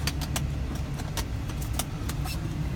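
A rusty 2000 Ford Excursion Limited 4x4 with the 6.8 V10 rumbles steadily and low as it sets off. Light clicks and jingles sound now and then over the continuous engine and road noise.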